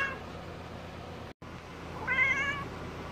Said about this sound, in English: Uncle Leo, when's the last time you fed that cat?